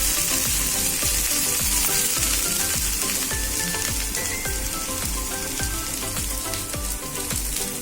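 Sliced okra (ladies finger) stir-frying in hot oil, a loud, steady sizzle broken by regular scraping strokes of the spatula against the pan, with no voices.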